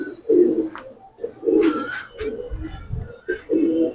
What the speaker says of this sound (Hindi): बहुत लाजवाब कबूतर है दोस्तों।